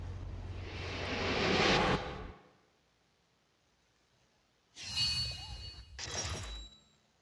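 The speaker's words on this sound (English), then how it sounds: "Sounds like an airplane ASMR jump scare right there." An airplane flies past in the Need for Speed No Limits racing game, a loud whooshing roar that swells for about two seconds and cuts off sharply, followed by silence and then two shorter bursts of noise.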